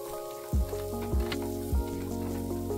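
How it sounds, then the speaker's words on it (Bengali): Chopped green chillies stir-fried in a pan for Bengali-style poha give a steady, close sizzle, with three dull thumps of the spatula striking the pan at regular intervals. "কুচানো লঙ্কাগুলো দিয়ে দিতে হবে আর ভালোভাবে ওটা নাড়াচাড়া করে ভেজে নিতে হবে।"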